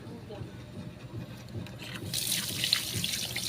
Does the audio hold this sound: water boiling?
yes